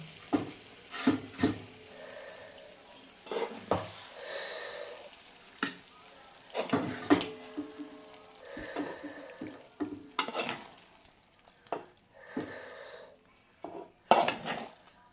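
Brinjal and dry fish curry is served from a pot onto a plate, with spoon scrapes, clinks and metallic knocks arriving in irregular bursts, close and fairly quiet.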